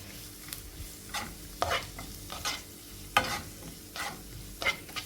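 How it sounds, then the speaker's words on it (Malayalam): Curry leaves and green chillies frying in oil with onions in a pan, stirred with a spoon, giving a soft steady sizzle broken by several sharp scraping stirs, close up, with no talk. "ഇതിലേക്ക് രണ്ട് തണ്ട് കറിവേപ്പിലയും രണ്ട് പച്ചമുളകും കൂടി ഇട്ട് കൊടുക്കുക"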